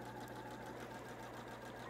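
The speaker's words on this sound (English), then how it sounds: "I'm gonna just sew starting up at this little front tip up here" Sewing machine running steadily while stitching quilt fabric pieces with a quarter-inch seam, a continuous close mechanical whir and hum without speech.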